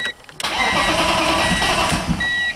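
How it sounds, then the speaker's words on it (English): A car engine that has sat unused for a long time cranks briefly after its dead battery is recharged, then catches and starts, settling into a steady running rumble close by. "This car's been sitting for a long time, so as long as it cranks over, I'd be happy"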